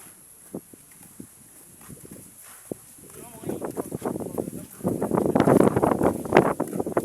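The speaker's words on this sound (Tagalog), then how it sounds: "Lakas ng hangin dito." Gusty wind buffets the microphone with low rumbling roar that grows stronger toward the end, while people talk in the background.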